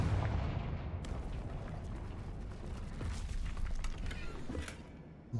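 A Confringo fire spell detonates in Hogwarts Legacy, a heavy booming blast followed by crackling debris and rumbling game effects, moderately loud.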